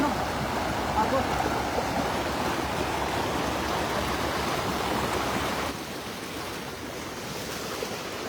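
A strong river current rushes past in a continuous broadband roar of flowing water, loud and steady throughout, dropping slightly in level partway through.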